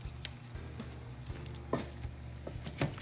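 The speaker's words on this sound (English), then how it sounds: "I'm gonna take and stir them up again" Buttered potatoes get stirred in a pan, with soft scraping and patter, a few sharper clinks of utensil against pan, and a low steady sizzle beneath.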